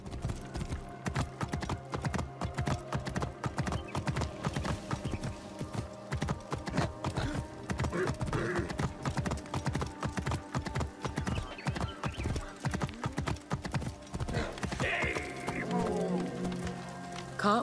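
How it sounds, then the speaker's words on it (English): Horse hooves clip-clop continuously in the video game Assassin's Creed Origins, a steady rapid trotting rhythm with a brief whinny, mixed with ambient game sound throughout. "That's how Caesar used to roll around his house on a horse"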